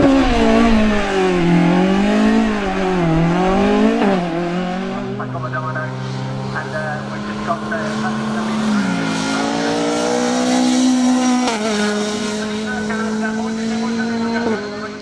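Rally car driven hard and sideways through a special stage at a rally day event, its engine wailing and rising and falling in pitch as it revs, with a long sustained note and tire noise, close and loud throughout.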